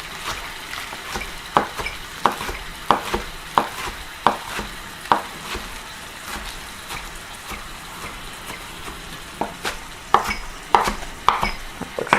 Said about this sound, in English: Now I'm going to chop my spinach.